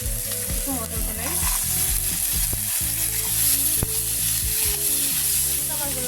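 Tomato and matar kalai peas fry in a pan with a loud, steady sizzle. A few stirring scrapes and clicks sound over the hiss.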